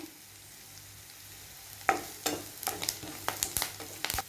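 Onions frying in oil with curry leaves tossed in: a quiet start gives way to a burst of sizzling, followed by sharp crackling spurts and pops that come close and grow busier toward the end.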